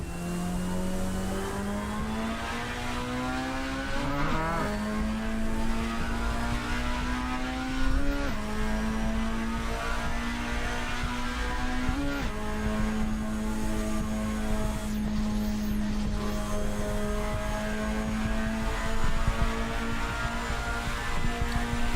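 A drifting car in the racing game Assetto Corsa, its engine droning at a steady high pitch with small rev shifts and occasional blips, heard continuously for the whole stretch at moderate level with no talk.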